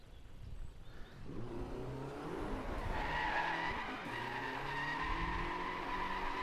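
Car tires skid under a pulled e-brake in the racing game Driveclub, a loud sustained screech over a revving engine that holds steady to the end.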